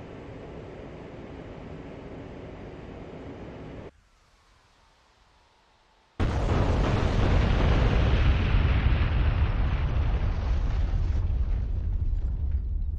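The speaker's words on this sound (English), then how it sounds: "Rinse and repeat until all six JDAMs are released." Heavy JDAM bomb blasts in the DCS A-10C II Warthog flight simulator, a loud, sustained explosive roar that cuts to near silence for a couple of seconds, then returns as an even louder, continuous rumbling boom.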